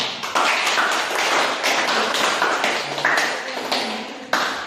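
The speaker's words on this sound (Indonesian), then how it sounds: "Beri aplaus dulu untuk semua." A classroom audience applauds after a group class discussion: dense, steady clapping from many hands, close and loud for several seconds.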